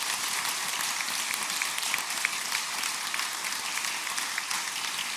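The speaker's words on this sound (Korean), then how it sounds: "큰 박수로 사랑을 보내주시면 좋겠습니다." A church congregation claps together during a Sunday service. The applause is a steady, soft wash of many hands that continues evenly throughout.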